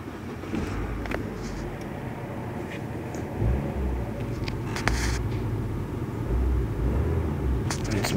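A hotwired car engine starts and settles into a steady running rumble, with a low continuous drone and a few clicks and knocks over it.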